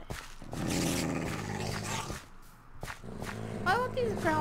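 Growling monsters in Minecraft, with low rumbling growls and roars that rise and fall under an excited voice talking over them.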